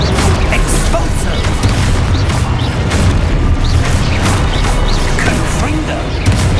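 Expulso explosion spell cast in the game Hogwarts Legacy, a loud, dense burst of booming blasts and crashing debris that stays steady and heavy through the whole stretch.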